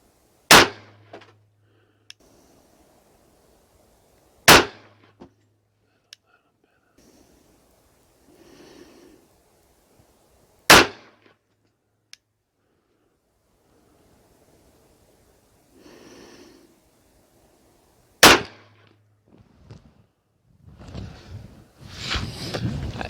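Gunshots from Speer Gold Dot short-barrel ammunition during velocity testing, four loud, sharp reports spaced several seconds apart, with faint breathing and shuffling between them.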